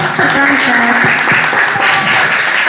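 A short round of clapping from an audience after an open Quran recitation exam, heard loud and close, with someone speaking over the applause.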